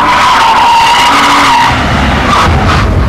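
A Porsche 911 Turbo driven hard around the Millbrook Alpine test circuit, tyres squealing loudly through a corner over the roar of the engine, close and sustained throughout.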